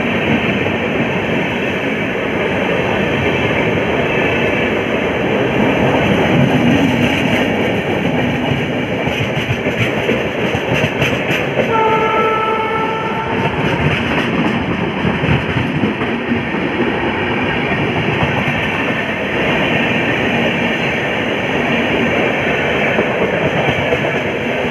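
Loud, continuous rumble and rattle aboard the Prayag Bareilly Express as a train runs alongside and overtakes it, with rhythmic clatter of wheels and a brief tonal squeal partway through. No one speaks.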